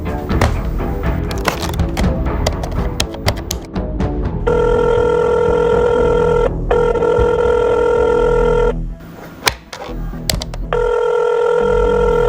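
A telephone rings repeatedly in long steady tones with brief gaps, after some clattering and knocking noises at the start; no one answers.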